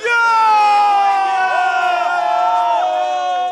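Cricket fans roar and cheer together in a stadium at an India versus New Zealand World Cup semi-final, a loud, sustained crowd shout that fades briefly at the end.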